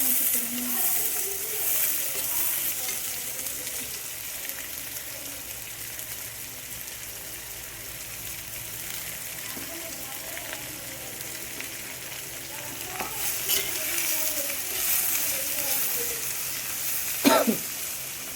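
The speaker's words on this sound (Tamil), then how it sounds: "ஃப்ரெண்ட்ஸ் இங்கே பாருங்கள், வெங்காயம் வதங்கின்னு இருக்கு." Onions sautéing with green chillies in a pan for village-style chicken kolambu, a soft continuous sizzle with occasional stirring scrapes and a brief knock near the end.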